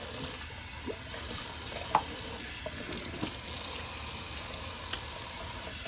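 Shaving brush rinsed under a running tap, a steady close splash of water drumming into a sink with small clinks and shifts of flow throughout, no voices.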